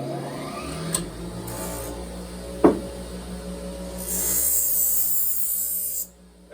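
Knife blade drawn lightly across a belt grinder's running belt, a faint steady whir broken by a few brief scrapes and a sharper grinding pass before the motor sound cuts off.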